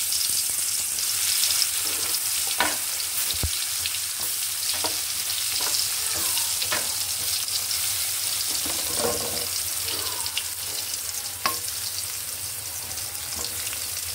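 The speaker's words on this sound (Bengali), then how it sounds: "আমি কাঁকরোলটা ভেজে নিচ্ছি, তেল দিয়ে দিচ্ছি।" Slices of spiny gourd (kakrol) fry in hot oil on a stove, giving a steady close sizzle for the whole stretch, with occasional clinks and stirring noises over it and no talking.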